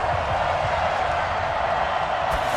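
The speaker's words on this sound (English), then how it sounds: "The crowd here in the Dome making things difficult." Dense, steady roar of a domed-stadium crowd in the Madden NFL 20 football game, a Vikings at Saints preseason matchup, filling the background at constant loudness throughout.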